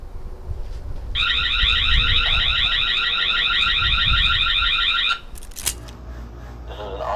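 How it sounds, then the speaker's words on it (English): A Tapo ColorPro 2K security camera sounds its built-in alarm, a loud, rapidly warbling electronic siren that holds steady for about four seconds, then cuts off, followed by a few handling clicks and faint room noise. "let's go ahead and test out the alarm."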